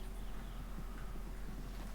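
Horse hooves clip-clop in a video game, a steady walking rhythm of soft hoofbeats under a low constant hum.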